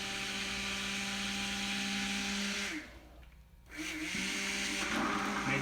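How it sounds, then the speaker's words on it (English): A hand blender purées butternut squash soup in a tilted pan, its motor whirring loudly, cutting out briefly partway through, then revving back up and running steadily again. "I'm just gonna tilt my pan a little bit and blend this whole thing."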